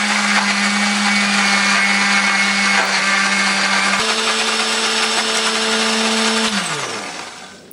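An electric blender grinds shallots, garlic, ginger, coriander and turmeric with a little water into spice paste, a loud steady whirring motor that shifts pitch midway and then winds down.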